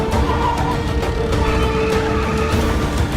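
Car speeding through a Hindi action-movie chase, a loud continuous engine roar with tire noise and a squealing skid near the middle, all close-up and dense from start to finish.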